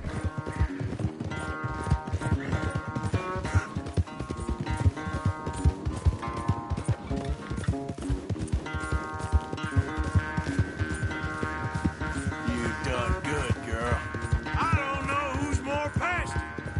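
Rapid, rhythmic clip-clop of galloping hooves pounding throughout in the video game Red Dead Redemption 2, mixed with music and a busy, dense backdrop.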